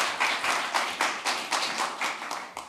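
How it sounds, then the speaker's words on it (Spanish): Seminar audience clapping to welcome a professor at a doctoral seminar session, a modest round of fairly sparse, distinct hand claps in an irregular rhythm, moderately close and steady throughout. "le recibimos con un aplauso"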